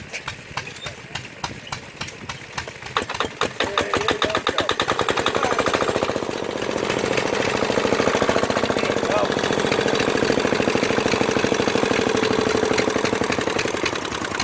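An antique Yanmar diesel engine at a show is cranked with slow, uneven chuffs that quicken into a fast, steady loud thumping as it catches and runs, with voices faintly underneath.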